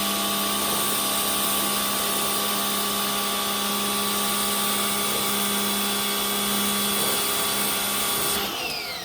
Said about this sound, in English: Pressure washer that's bucket fed.